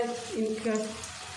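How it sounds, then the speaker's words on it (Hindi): Vegetable pakoras frying in hot ghee give a steady soft sizzle throughout, while someone talks over it in the foreground. "घी हमारा गर्म हो गया, मैंने 1 पकौड़ा डाल के देखा है। पकौड़े डाल देते हैं।"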